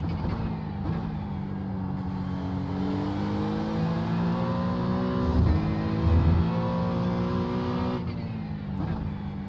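An LMP prototype race car in the iRacing game approaches at Watkins Glen, its engine whine climbing and shifting through gears, loud and steady with brief dips between shifts.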